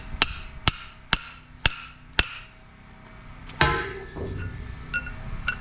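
A hammer taps a pin-held shaft into place during a Kemper head reassembly. Five evenly spaced, sharp metallic strikes ring close by, followed by a louder clattering knock and a few lighter clinks.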